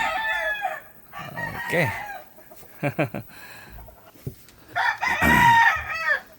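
A rooster crows several times, close and loud, with clucking between the calls and a brief spoken word.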